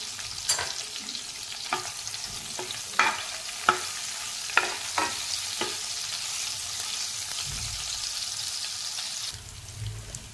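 Garlic and dried red chillies sizzle in hot oil as a tempering for moong dal aamti, a steady close hiss broken by sharp taps and scrapes of a stirring spoon against the pan.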